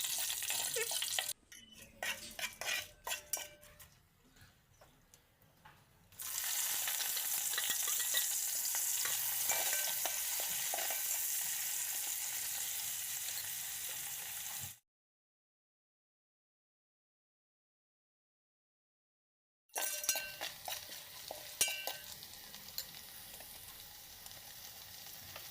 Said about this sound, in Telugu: అవి ద్వారగా వేగిన తర్వాత ఉల్లిపాయ, పచ్చిమిరపకాయలు వేసుకొని